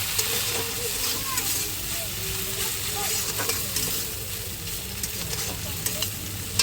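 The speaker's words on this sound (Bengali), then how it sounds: "এবার দিয়ে দেবো জিরে বাটা দিয়ে একটু ভালো করে নাড়াচাড়া দিয়ে দেবো" Cumin paste and spices stirred and fried in a pan, giving a continuous steady sizzle with light scraping of a spoon throughout.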